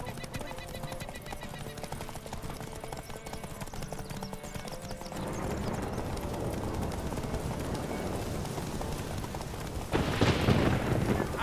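Horses race at a gallop in the video game Witcher 3, their hooves pounding in a rapid clip-clop rhythm under game music and chatter, with a louder thundering surge near the end.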